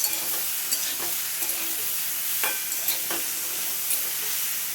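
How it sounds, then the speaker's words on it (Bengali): Mixed vegetables frying in a pan, a continuous close sizzle punctuated by periodic scrapes and taps of a spatula as they are stirred, with no voices. "দেখো এখানে সবজিটা আমি কত সুন্দর করে ভেজে নিচ্ছি।"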